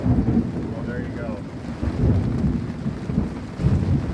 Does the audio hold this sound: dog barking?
no